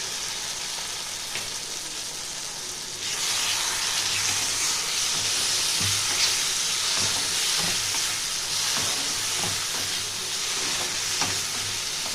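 A paste of ground black and white mustard seeds fries in a pan, its sizzle jumping louder when it goes in, then a steady hiss with occasional stirring clinks and scrapes, and no one talking.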